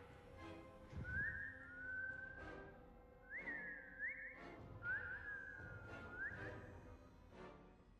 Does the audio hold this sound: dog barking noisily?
no